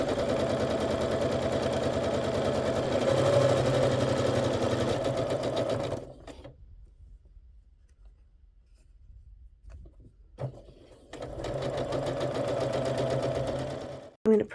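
A sewing machine stitches a nested quilt seam without pins in two close, steady whirring runs, with a quiet pause in between.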